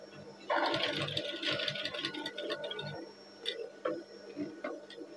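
Sewing machine stitching a PDH uniform shirt, a steady close mechanical whir with ticking needle clicks, stopping and starting in short runs toward the end.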